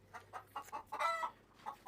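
Chickens cluck softly in a coop, a series of short, fairly quiet calls coming in irregular bursts, with one louder cluck cluster in the middle and no talk.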